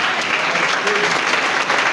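A church congregation claps and cheers in praise, a loud, dense roar of many hands and voices that holds steady from start to finish.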